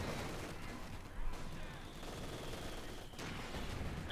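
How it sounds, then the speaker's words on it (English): Bren guns and light machine guns rattling in a Company of Heroes 2 battle, a Wehrmacht versus British forces match on Faymonville, heard as a steady wash of distant automatic fire, fairly faint under the general battle noise. "We got a mix of Bren guns and light machine guns"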